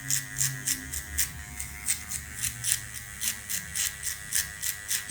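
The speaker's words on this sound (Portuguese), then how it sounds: "Somente com a pontinha da maquininha." An electric hair clipper trims a taper fade at the back of the neck using just the tip of the blade, its steady motor hum broken by quick, regular buzzing pulses as it sweeps through short hair, close up.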